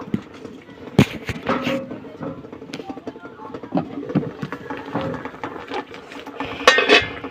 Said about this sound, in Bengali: এবার আমি ঢাকনাটা খুলে দেখে নেব